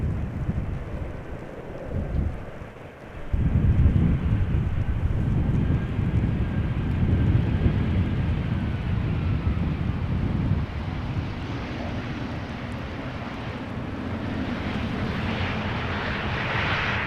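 An airliner arriving from Newcastle at Schiphol rumbles in with a deep, swelling engine roar that jumps louder early on, then settles into a sustained drone mixed with wind buffeting.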